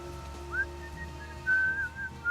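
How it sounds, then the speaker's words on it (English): A short, faint whistle sounds in the Deadly Premonition video game, a few thin, sliding tonal notes repeated over a quiet, low background hum. "Just a whistle, okay."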